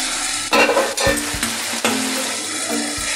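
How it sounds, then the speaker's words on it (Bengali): Chicken with coriander fries in a pan, giving a loud, close sizzle broken by several clanks and scrapes of a spatula or lid, with no voices. "নাড়াচাড়া করা হয়ে গেলে আমরা একটা ঢাকা চাপা দিয়ে দেব এবং 2 মিনিট মতো ভাজব"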